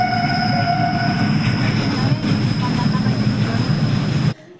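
A train rolls past a closed railway crossing close by, a loud, sustained rumble of wheels and wagons with some metallic squeal, until the sound cuts off sharply near the end.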